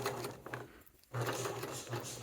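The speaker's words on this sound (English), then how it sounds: "and just top stitch over this." Sewing machine top stitching a seam in blue thread, a quiet rapid mechanical whirr that stops briefly for a moment, then resumes at the same steady pace, heard close and alone.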